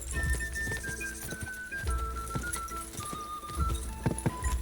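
Horse galloping in Kingdom Come: Deliverance, a steady rapid clip-clop of hooves close by, running continuously under game music with no talk.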